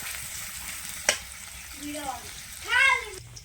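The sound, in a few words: beef tripe frying in a pan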